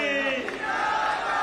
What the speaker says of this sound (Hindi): नारा भी लगना चाहिए, ताली भी बजना चाहिए